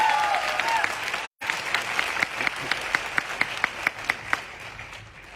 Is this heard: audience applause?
yes